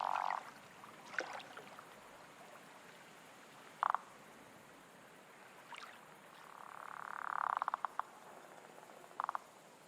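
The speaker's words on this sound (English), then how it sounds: "A frog croaks?" A frog croaks in a quiet outdoor setting, giving a few short, spaced calls and one longer, swelling croak, faint and moderately distant, with no talking.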